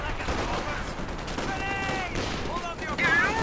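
Gunfire in the Company of Heroes real-time strategy game, dense rattling bursts of rifle and machine-gun fire mixed with battle noise, steady and loud throughout, with a voice partly over it.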